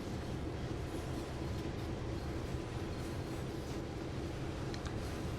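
A freight train in the Train Sim World game runs on the Oakville Subdivision, giving a steady, dense rumble with a faint rolling clatter. The sound stays constant and fairly loud throughout.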